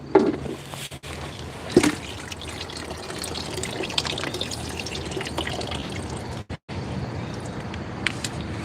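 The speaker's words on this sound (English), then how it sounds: "But I gotta empty the water out" Rainwater poured and splashing out of a garden pot outdoors in the rain, a continuous close trickling and dripping wash with a few louder splashes and brief pauses.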